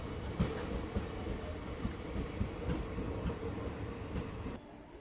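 An express train pulls out of Kinathukadavu station after a seven-minute delay, heard from on board as a steady low rumble with soft rhythmic clacking of the wheels that goes quieter just before the end.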